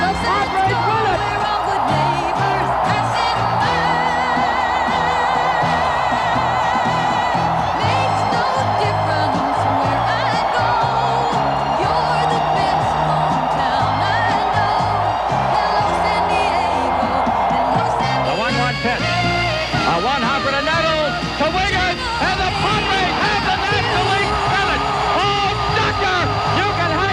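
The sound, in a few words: crowd cheering and applauding Padres baseball win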